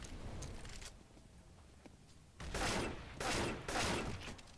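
Gunfire in an online shooter video game: three loud, broad bursts of shots in the second half, preceded by quieter ambient game noise and faint distant shots.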